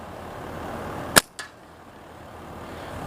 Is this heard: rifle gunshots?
yes